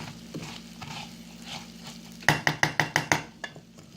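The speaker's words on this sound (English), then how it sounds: "So you got to keep stirring it just to saute it a few minutes." Rice-A-Roni sautés in a pan over medium heat on the stove, a soft steady sizzle underneath while a spoon scrapes and clinks against the pan in a quick run of about six sharp, evenly spaced strokes near the end.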